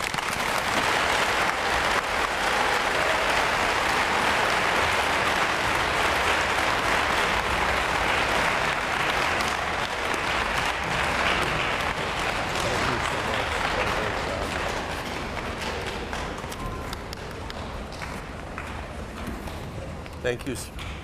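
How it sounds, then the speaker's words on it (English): Loud, sustained applause from a large crowd at a middle school Veterans Day program honoring a veteran, dense clapping that slowly thins and fades toward the end. "Mr. Mark Schroeder, with a round of applause."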